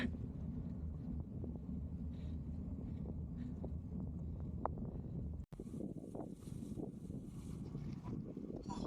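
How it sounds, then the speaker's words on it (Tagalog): Wind rushes and rumbles against the microphone of a cyclist riding into a headwind, a steady low roar gusting harder partway through. "Lakas ng hangin dito sa side na to. Salubong tayo sa hangin."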